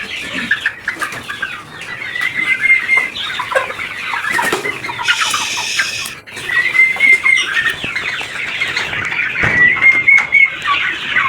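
Month-old Goliath chicks peep and chirp continuously up close on a farm, with a brief flutter of wings midway and a busy, shrill chorus throughout.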